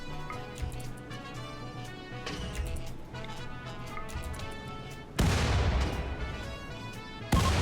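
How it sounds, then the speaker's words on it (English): Grenade explosions in the RimWorld video game sound as loud, broad booming bursts over busy game sounds and music, with a heavy blast partway through and another near the end. "Grenades are fun."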